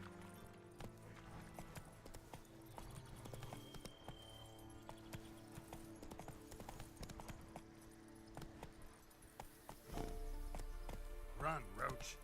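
Horse hooves clip-clop at a galloping pace in The Witcher video game, a fast rhythmic patter under game music and effects, with a spoken line near the end.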